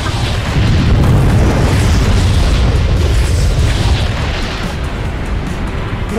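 A massive nuke explosion in Garry's Mod, a deep, roaring boom that swells quickly and rumbles on continuously for several seconds, heavy in low end and only slightly fading toward the end.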